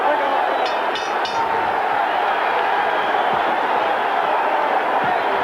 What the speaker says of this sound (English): the crowd love it, already on their feet